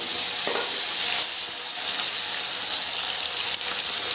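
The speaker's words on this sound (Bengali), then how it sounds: "টমেটোটা একটু ভেজে নেব" Chopped tomato fries in oil with bay leaf, whole dried chillies, cinnamon and cloves, giving a continuous loud sizzle and hiss with faint scrapes of stirring beneath.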